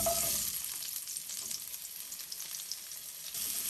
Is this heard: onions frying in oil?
yes